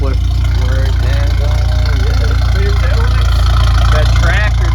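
Honda Civic idling through aftermarket pipes and muffler, a steady low rumble that stays constant and loud throughout, while people chatter over it.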